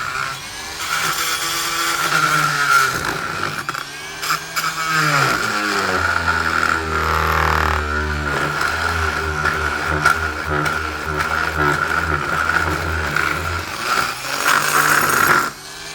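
An oscillating multi-tool fitted with a stronger blade cutting through a wooden plank: a loud, continuous buzzing drone that shifts in pitch and strains as the blade bites into the wood, heard close and alone.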